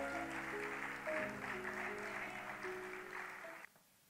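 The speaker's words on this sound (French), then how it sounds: "Sous vos applaudissements, mesdames et messieurs" An audience at a Trophée Mukendi Mbaye awards ceremony applauds continuously to welcome the president, with music playing underneath, before the clapping cuts off near the end.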